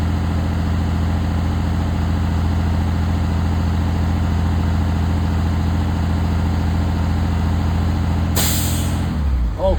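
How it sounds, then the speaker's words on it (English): A school bus at idle, with its air brake system building pressure, runs a steady diesel hum until the pressure relief valve releases a sudden, loud hiss of air near the end. "So in the next 10 seconds, we should hear the pressure relief valve."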